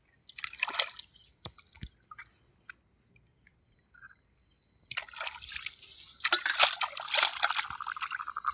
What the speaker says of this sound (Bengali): ভালো করে মাছটা ধোয়া হচ্ছে,